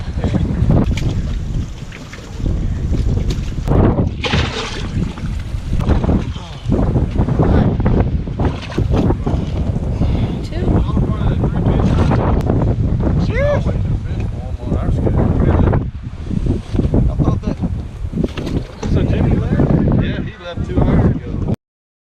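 Strong wind buffets the microphone at a boat ramp on a windy fishing tournament day at Squaw Creek, a loud continuous roar with gusty surges throughout, with boat and water noise mixed in and a voice talking over it.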